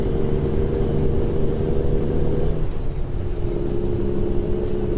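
A truck drives steadily down the road with a dense low engine rumble and road roar, a brief hiss and dip midway like an air brake release before the drone resumes.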